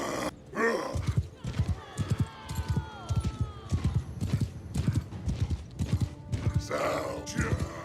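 Rhythmic hoofbeats clop steadily along while a horse whinnies in a couple of shrill, wavering calls, with brief talk mixed in, in the game Blood Dragon: Trials of the Damned, a Warhammer mod.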